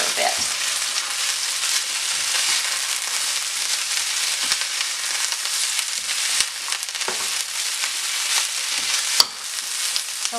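Garlic, ginger and red peppers sizzle in a pan, a continuous loud crackling hiss with occasional stirring scrapes and taps, close up and without talk.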